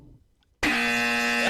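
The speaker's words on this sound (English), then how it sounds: "The buzzer is back to working exactly when I hit it" A game show buzzer is struck once, giving a sudden loud, steady electronic tone that holds for about a second before cutting off, after a quiet lead-in.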